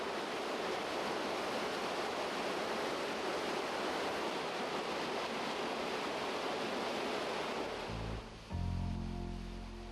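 A river flows toward a waterfall with a loud, steady broadband rush of water that continues evenly until a different tonal sound cuts in near the end.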